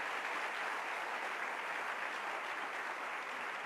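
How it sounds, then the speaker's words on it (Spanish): A church congregation applauds, a broad even wash of many hands clapping at moderate distance, fairly soft and steady without any talking over it. "Dele un aplauso al Rey"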